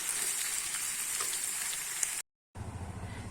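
Banana flower and prawn curry cooked with ghee sizzles steadily in a pan as it is stirred, a close, even frying hiss that cuts out briefly before resuming.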